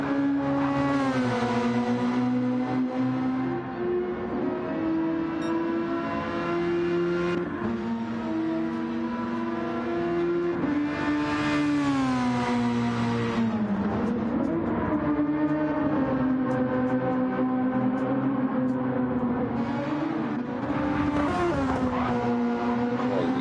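Racing car engines roar continuously in the Grand Prix Legends game, several loud engines with shifting pitch as they rev and change gear, with no one talking.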